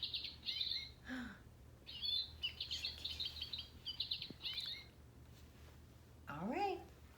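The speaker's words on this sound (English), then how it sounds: "What do we hear? Chickadee." Chickadee calling outdoors, a series of high chirping notes and whistles repeating across the stretch, fairly clear over a low steady background hum, with a lower swooping call near the end.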